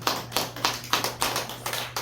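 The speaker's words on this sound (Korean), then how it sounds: "우리 박수 치죠" A Korean church congregation claps in unison during a sermon, about eight sharp, evenly spaced group claps in a brisk steady rhythm, close and clear over a low hum.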